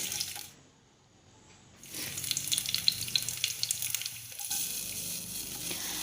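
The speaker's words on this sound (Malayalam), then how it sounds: "2-3 പച്ചമുളകും കുറച്ച് വേപ്പില ഇട്ടിട്ട് നന്നായി ഒന്ന് ഇളക്കി കൊടുക്കാം." Green chilies and curry leaves hitting hot oil after mustard seeds in a pan for restaurant-style chana masala; a brief quiet gives way to a loud crackling sizzle with stirring, settling into a steady hiss.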